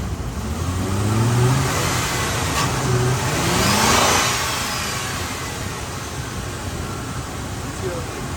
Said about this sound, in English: that happens every time I accelerate. It's the fuel pump